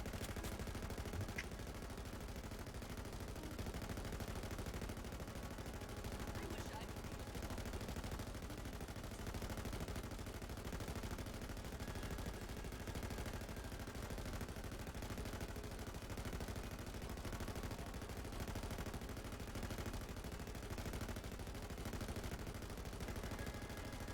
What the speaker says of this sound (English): Look how long I can fire. This is from a full mag.